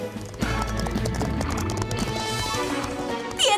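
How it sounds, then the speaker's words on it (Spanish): Horses in a Bob the Builder cartoon gallop with a rapid, steady clip-clop of hooves and an occasional whinny, set against busy background music and effects. "Vamos a hacer una barrera para dirigir los caballos hacia su prado."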